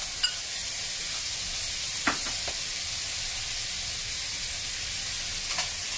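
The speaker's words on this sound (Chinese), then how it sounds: "就炒香佢，加翻細個火，慢慢炒香佢。" Tofu stir-fried in a wok with shrimp paste and Zhaoqing wine gives a steady, soft sizzle throughout, with a few brief scraping stirs of the spatula standing out over the continuous frying hiss.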